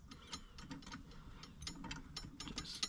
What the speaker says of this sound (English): Just tighten those in by hand, secure them on.